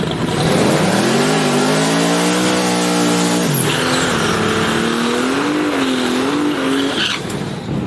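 Turbocharged Buick race car engine revving loudly on a test drive, pitch climbing steadily, dipping briefly as it shifts, then climbing again before easing off, with faint tire noise and no talking.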